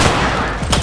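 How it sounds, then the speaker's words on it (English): Machine gun fire in the VR video game Heartshot, a loud, dense rapid burst filling the short moment without pause. "He's got a machine gun"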